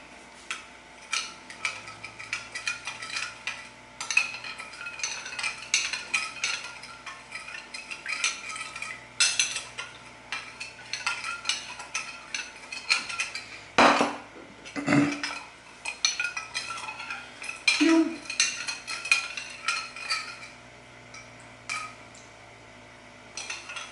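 Prawn pasta sauce with oyster sauce being mixed in a pan, with repeated soft scrapes and clinks of a utensil in an irregular rhythm and a few sharper knocks, all fairly quiet.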